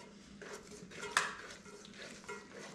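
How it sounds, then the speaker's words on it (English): Milk being stirred into crêpe batter in a bowl, a soft continuous sloshing and scraping with one sharp clink of the utensil against the bowl midway, close and quiet. "So what I do is I tend to just add as we're stirring"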